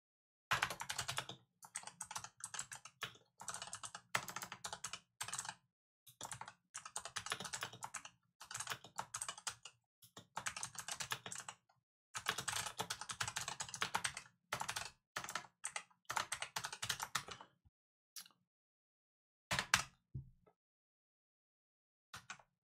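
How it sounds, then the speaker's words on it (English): Rapid keystrokes clack on a new mechanical computer keyboard in bursts of typing with short pauses, close and crisp, and no talking over them. "I got a new clacky keyboard, so y'all have to deal with that"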